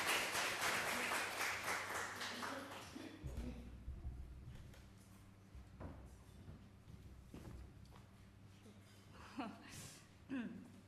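A church congregation at a Sunday service breaks into warm applause, dense clapping loud at first and thinning out after a few seconds, followed by scattered shuffling and movement noises in the hall.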